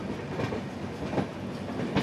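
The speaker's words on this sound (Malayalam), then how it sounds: "നമ്മളങ്ങനെ ആഗ്ര ഛാവനിയിലേക്ക് കയറുകയാണ്" Kerala Express passenger train rolling into Agra Cantonment station, a steady rumble of railcars with faint rhythmic clickety-clack of wheels over rail joints, continuous and moderately loud with no voices.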